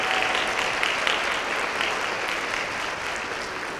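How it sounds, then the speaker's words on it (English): A school awards-ceremony audience claps steadily for science and engineering prize winners, a dense, even wash of applause throughout with no break. "Please give a round of applause for our specialty award winners"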